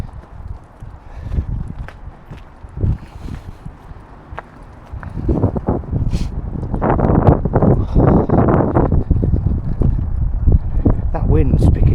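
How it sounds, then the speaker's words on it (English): Strong wind blows outdoors on a windy day, buffeting loudly against the microphone in low rumbling gusts that grow stronger partway through, with footsteps or knocks and occasional talk mixed in. "That wind's picking up a lot."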